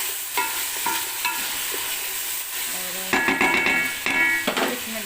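Chicken being stirred and fried in a pan, with a steady sizzle and scraping, spoon strokes growing louder and more clattery toward the end; no talking.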